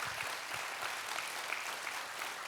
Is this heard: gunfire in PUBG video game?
no